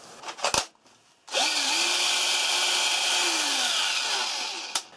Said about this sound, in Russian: Можно проверить работу батареи на шуруповерте.